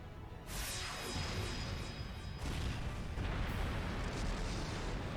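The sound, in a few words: orbital energy missile explosion, Trails of Cold Steel IV video game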